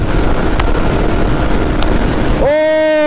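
Yamaha MT motorcycle accelerating hard in fifth gear: a loud, steady roar with strong wind rush for most of the clip, then a rising whine of engine harmonics as the rush drops away near the end.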